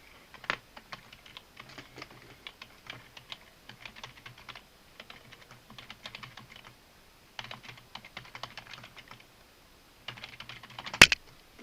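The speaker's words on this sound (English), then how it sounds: "you just click and start typing" Someone types steadily on a computer keyboard, with rapid close key clicks in several bursts separated by short pauses, ending on one sharp louder tap.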